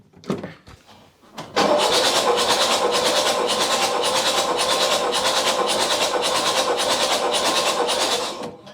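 After a few faint clicks, the hot diesel engine of a Mercedes-Benz S123 300TD cranks loudly and continuously during a compression test, with a rapid rhythmic chug for several seconds before stopping.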